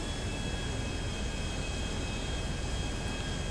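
Airplane engine in GTA 5, a steady broadband roar with faint tonal whine, constant and unbroken throughout.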